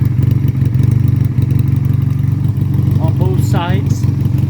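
A Honda Rebel Bobber motorcycle fitted with a shorty exhaust idles with a steady, low, throbbing rumble, while someone talks over it for most of the stretch.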